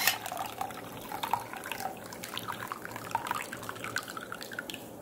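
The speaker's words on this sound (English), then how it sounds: "this is how the milk is extracted" Coconut milk dripping and trickling from grated, ground coconut as it is squeezed out in a kitchen, a steady light liquid patter that runs close and fairly quiet throughout.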